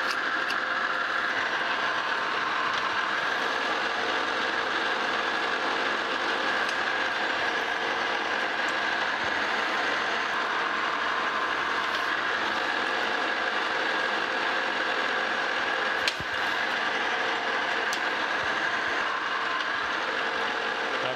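A lathe single-point cuts 13 threads per inch on a steam locomotive throttle valve, giving a steady, loud, continuous mechanical whir and grind with one brief knock near the end and no talking.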